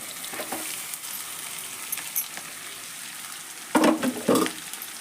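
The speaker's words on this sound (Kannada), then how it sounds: "ಹಾಕ್ಕೊಂಡು ಎಲ್ಲ ಎಣ್ಣೆ ಒಳಗೆ ಫ್ರೈ ಮಾಡೋಣ ಇದನ್ನು" Chopped cabbage fries in hot oil in a pan, giving a steady soft sizzle. Louder bursts of sizzling and stirring come near the end, with no talking.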